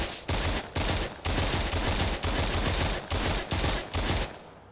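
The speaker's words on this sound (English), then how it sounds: "I think I'm gonna use the rifle on you" Rifle fire in a video game: loud, close bursts of automatic shots in about eight rapid volleys, each cut off by brief silences. No one speaks over the gunfire.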